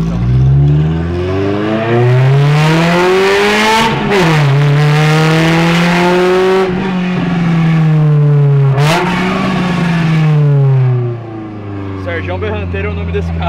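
A Renault Clio with a 1.6 K4M engine revs hard and loud, its pitch climbing and dropping in long sweeps with brief dips between pulls.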